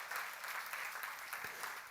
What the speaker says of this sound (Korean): 박수로 가자.